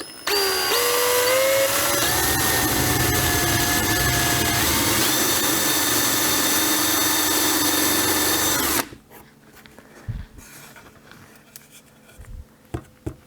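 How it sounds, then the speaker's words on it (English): A power drill whines loudly for about nine seconds drilling a hole in a Dollar Tree candle holder, its pitch rising as it bites, then stops, followed by light clicks and handling noises. "I'm going to drill a hole"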